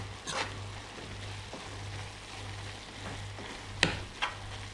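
Chard and squash tart filling cooking in a pan at a farm in Mendoza, a soft continuous sizzle under a low hum, punctuated by a few sharp scrapes or clinks, with no talk.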